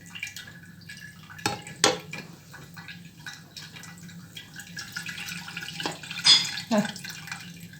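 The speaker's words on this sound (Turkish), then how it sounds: "süzdürüyorum arkadaşlar şimdi" Whey from homemade cheese drains and drips through a strainer, a close trickle of water with a few sharp clinks of kitchenware against a bowl, moderately loud with no talking.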